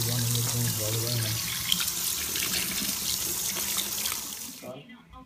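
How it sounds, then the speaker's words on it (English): Fresh water rushes and splashes from a tap into a sink as a pair of APC Petit New Standard jeans is dipped and rinsed, a continuous close wash that cuts off near the end, with a voice briefly audible early on. "Just dipping in fresh water, not salt water, and rinse them off."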